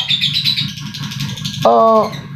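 A male competition songbird sings a busy run of chirps and trills, then a clear ringing whistled phrase near the end, loud and close with no talk.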